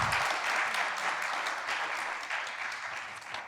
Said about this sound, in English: An applause for all of them